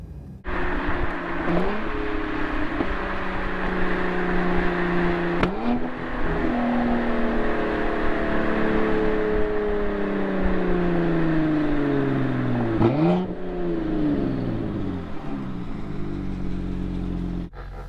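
A Cadillac CTS-V Sport fitted with a Corsa axle-back exhaust revs loudly and close up. Its engine note climbs and falls through several long pulls, with sharp blips between them and a deep rumble underneath.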